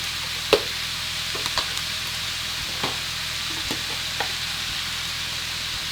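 Chicken is stir-fried in a pan for a salty garlic and black pepper dish, with a steady sizzle running throughout and occasional sharp clicks of a utensil against the pan.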